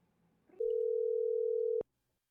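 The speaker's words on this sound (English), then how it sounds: "Let's get Judy on the phone" Steady telephone dial tone, a single continuous pure tone lasting about a second, cut off sharply with a click, after faint room noise.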